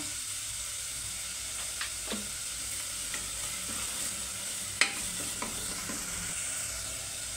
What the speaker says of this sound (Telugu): చూడండి, ఉల్లిపాయ ముక్కలు అయితే వేగాయండి